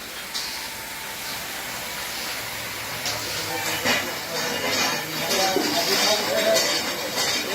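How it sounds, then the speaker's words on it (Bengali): A six-pan puffed rice roasting machine in Ghatal, West Medinipur, runs with a steady mechanical rumble and airy hiss, continuous throughout and growing slightly louder toward the end. "একদম 1 নম্বর স্পেশাল মুড়ি ভাজা মেশিন"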